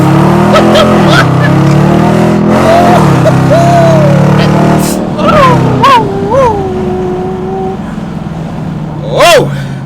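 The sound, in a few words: Dodge Challenger R/T accelerating hard in race mode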